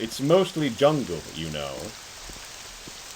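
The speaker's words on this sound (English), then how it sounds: "Ooh, it's raining." Rain falls in the video game Morrowind as a steady soft hiss beneath someone talking, continuing on its own once his voice stops.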